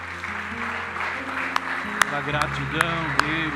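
A church congregation applauds in a steady, dense wash of clapping, with a voice and sustained musical tones over it.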